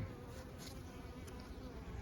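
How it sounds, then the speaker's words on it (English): A dense, continuous buzz of many honey bees in an open Layens hive during a spring inspection fills the air, close and steady, with no talking. "A lot more bees on this side."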